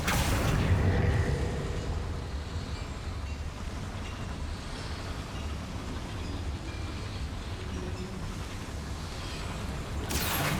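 The Confringo blasting spell explodes in Hogwarts Legacy inside a goblin mine, a deep rumbling boom that lingers as a low, sustained roar before a second burst near the end.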